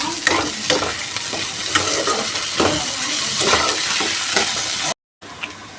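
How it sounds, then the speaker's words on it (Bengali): Boiled, deboned fish frying with onions in a pan, with a loud steady sizzle and repeated rhythmic scrapes of a spatula stirring against the metal, then a brief cut to silence. "এবার এটাকে আমি ভালো করে ভাজতে থাকবো"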